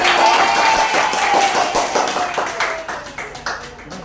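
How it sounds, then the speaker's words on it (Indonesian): Students in a classroom clap for a classmate, a burst of close hand claps that fades over a few seconds. "tepuk tangan kepada Putri"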